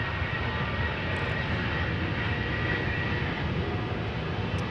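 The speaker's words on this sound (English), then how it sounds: "I do hear that the APU is still on" The auxiliary power unit of a Delta A330 parked at Amsterdam Schiphol Airport with its main engines off, a steady, even broadband whine and rumble, moderately loud and continuous at a distance, with no voices.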